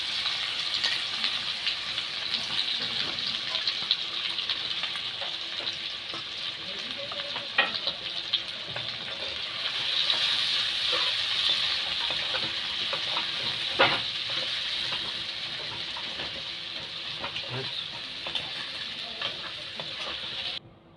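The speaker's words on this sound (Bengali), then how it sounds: "এবার দিব ফোড়নে পেঁয়াজ। এই তেলের মধ্যে ফোড়ন দিয়ে দেবো, দেবো কাঁচা লঙ্কা।" Chopped onion and green chilli sizzle steadily in hot oil in a home kitchen pan, a continuous close hiss with occasional stirring clicks and pops throughout.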